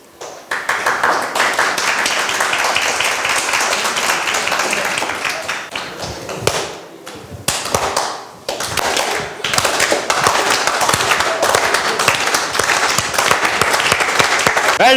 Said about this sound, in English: Okay, give yourselves a clap.